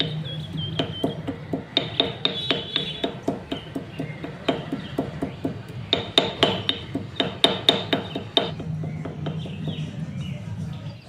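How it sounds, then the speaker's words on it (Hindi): Garlic, ginger and black pepper are coarsely pounded in a mortar with close, repeated thuds. The strikes fall in a steady rhythm of roughly two per second, with a slight gritty crunch. "इसको मैं ओखली में दरदरा कूट लूँगी।"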